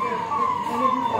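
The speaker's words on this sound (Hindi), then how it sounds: "और एम्बुलेंस की आवाज़ भी आ रही है इधर से मुझे।" A steady, wailing ambulance siren holds a high tone throughout, fairly prominent over a low murmur of background noise.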